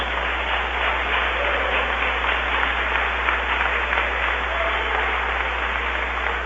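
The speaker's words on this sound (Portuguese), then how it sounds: "Eu quero ouvir palmas misturado com glória a Deus." A church congregation claps steadily and densely, a continuous loud wash of applause filling the room without a break.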